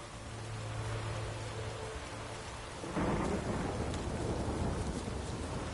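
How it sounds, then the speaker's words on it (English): Thunderstorm in The Witcher 3 game, with steady heavy rain hiss and a deep rumble of thunder rolling in halfway through, loud and continuous with no voices. "The storm, damn it."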